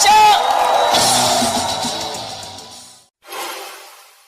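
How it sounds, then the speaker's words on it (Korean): Rally crowd cheering and shouting for candidate Moon Jae-in's entrance, loud whoops and yells that fade gradually, a brief drop to silence, then another burst of crowd noise. "큰 박수로 환영해 주십시오"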